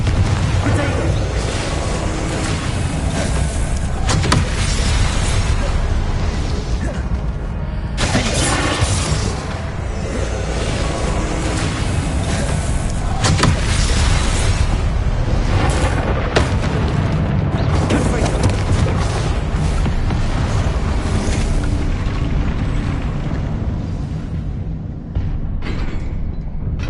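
Confringo fire-blast spells explode again and again in the Hogwarts Legacy game, loud booming bursts over a thick, continuous backdrop of combat noise, with voices heard throughout.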